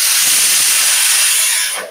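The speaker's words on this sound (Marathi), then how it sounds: "कुकरची शिट्टी झालेली आहे" A pressure cooker cooking chickpeas lets off its whistle, a loud, steady, close hiss of escaping steam that holds for most of the clip and tapers off at the end.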